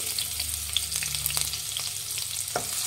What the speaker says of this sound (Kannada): ಒಂದು ಅರ್ಧ ಈರುಳ್ಳಿ ಹಾಕ್ತಾ ಇದ್ದೀನಿ ಸಣ್ಣದಾಗಿ ಹಚ್ಚಿರೋ ಅಂಥದ್ದು